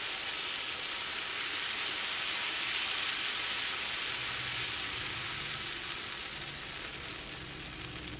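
Dosa batter sizzles on a hot pan: a steady, close, crackling hiss that fades slightly toward the end, with no talking.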